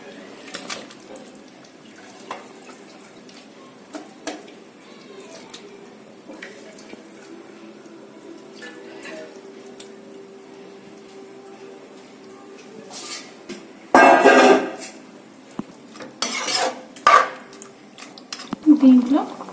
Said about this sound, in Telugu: శుభ్రం చేసుకున్న చికెన్ని దీంట్లో యాడ్ చేసుకోవాలి.